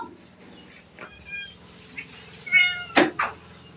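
A cat meows several times in short, fairly loud calls spread across a home setting, with faint bird chirps and low background noise between them.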